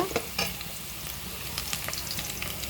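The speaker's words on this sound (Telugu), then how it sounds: "ఆనియన్స్ ఇలాగా బ్రౌన్ షేడ్లో వేగిన తర్వాత" Sliced onions fry to a brown shade in hot oil for a Telugu fish curry, giving a steady broadband sizzle with a few brief scraping stir clicks near the start and no voices.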